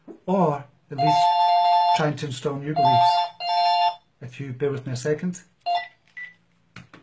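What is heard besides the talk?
phone ringing and beeping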